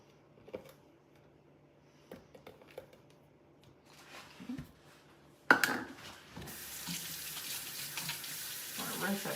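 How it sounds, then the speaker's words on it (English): A kitchen tap is switched on partway through and runs steadily to the end as brown sugar is rinsed off fingers while baking, after a stretch of quiet clinks and light handling sounds. "Rinse that brown sugar off my fingers."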